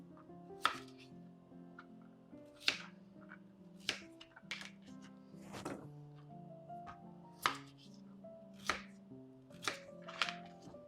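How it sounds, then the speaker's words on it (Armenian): Vegetables chopped quickly on a board while cooking dinner, roughly a dozen sharp, close knife knocks spaced irregularly about a second apart, with faint kitchen clatter between and no talk. "արագ կտրտենք ու դնենք եփվելու"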